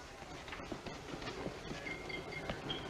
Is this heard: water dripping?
no